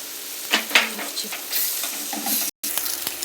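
Egg bhurji with onions frying in a pan gives a steady close sizzle, broken by a few sharp spatula scrapes and stirring knocks. No one speaks.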